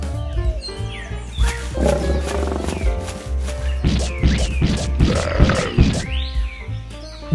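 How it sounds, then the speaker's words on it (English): A bear's roar, loud and close, rising in several heavy rumbling bursts with growling texture over a steady low drone and faint background music. "Bear."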